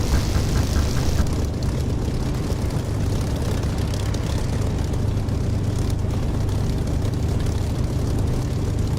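A clipped-wing Spitfire's piston engine drones loud and close in the DCS flight simulator game, a dense continuous roar with a slight rough pulse and no speech.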